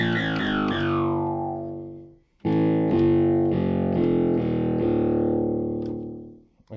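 Vintage 1970s Crumar CPB-2 analog bass pedals played through an old Fender Champ amp: a loud, buzzy low note that decays, a brief gap, then another sustained tone that slowly fades, with no talking.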